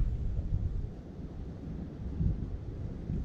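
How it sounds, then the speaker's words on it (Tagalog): Strong wind at a park buffets the microphone, a continuous low roaring rumble that swells and eases without pause, with no other sounds standing out. "ang lakas ng hangin"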